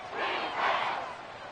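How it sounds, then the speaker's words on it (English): Arrowhead Stadium football crowd roaring during a Chiefs versus Texans game, a broad loud swell of massed voices rising and holding before easing slightly. "The Arrowhead crowd in full roar."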